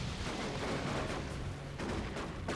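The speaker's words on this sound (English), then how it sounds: "These double shotgun scouts putting the hurt on these Hormagaunts big time." Double-barrelled shotguns firing during a battle in the strategy game Dawn of War II: Retribution, with scouts shooting at Hormagaunts in a loud, dense stream of gunfire and bursts that runs steadily without a break, and no voices heard.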